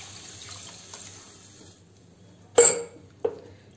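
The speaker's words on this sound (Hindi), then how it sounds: "अब हम इसमें ऐड करेंगे वाटर।" Water is added to a pan of semolina and peas for chana dal upma, a soft running trickle followed by two sharp splashing pours near the end, with no talking.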